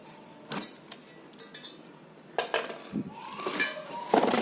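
A 1.5 litre metal pressure cooker is handled up close, with scattered clinks, knocks and rattles of its lid and body spaced irregularly, and a voice briefly audible.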